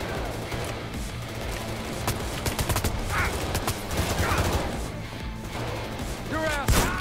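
Shotgun blasts in Payday 3 during the Rock the Cradle heist. Repeated gunfire pops and cracks through a chaotic mix of game noise, with shouting and voices mixed in throughout.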